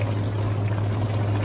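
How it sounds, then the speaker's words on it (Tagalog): Hot water is poured steadily into a pan of sautéed chicken and tomato paste for Arabic kabsa pasta, making a continuous close, rushing stream with a low hum beneath it. "lalagyan na siya ng tubig na mainit"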